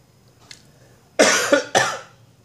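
Two loud, harsh coughs right after eating spicy chili peppers, close to the mic, each one a sharp burst with a trailing rasp, with a small faint sound just before.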